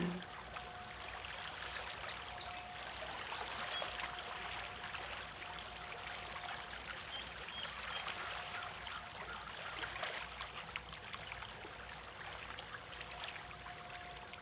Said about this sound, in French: On détend le mental dans cette posture en utilisant le son de la mer.